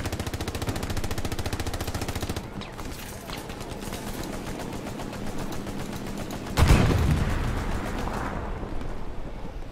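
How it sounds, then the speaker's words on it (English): Sustained machine gun fire in a multiplayer war video game, with rapid overlapping bursts and rattling volleys, then a heavier explosive boom partway through, dense and loud throughout. "Machine gun fire from the northeast."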